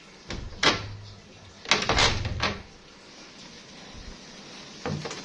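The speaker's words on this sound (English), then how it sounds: "the doors are sliding doors that we have been taught to close because monkeys" A sliding balcony door in a hotel room being handled, with a couple of separate rolling slides and a thump, then quieter scraping near the end, close by and with no talk.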